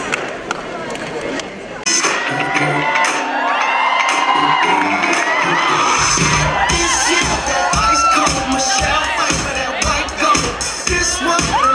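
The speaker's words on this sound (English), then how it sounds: "So audience, with huge round of applause, let's welcome our contestants for fashion show." An audience at a college fest fashion show cheers, whoops and claps as contestants are welcomed, a loud dense crowd roar that swells after a brief quieter moment and stays sustained, with shouting voices mixed in.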